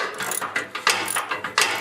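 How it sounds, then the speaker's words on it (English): A hand ratchet with a 1/2-inch socket loosening a shear pin nut on an older Toro snowblower, giving repeated close, crisp clicking bursts in uneven strokes with no talking. "Now I'm going to go underneath with my other ratchet and 1/2-inch socket."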